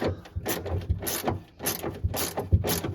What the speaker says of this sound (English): get that ratchet. And go ahead, start unscrewing them.